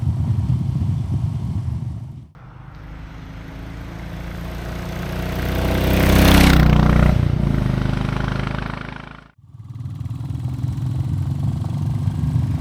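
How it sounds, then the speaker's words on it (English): Royal Enfield small cruiser motorcycle idling close by, its exhaust thumping steadily before a blip of revs swells and falls, then cuts off sharply and returns to a low idle. "The engine sounds really good. The exhaust sound very nice."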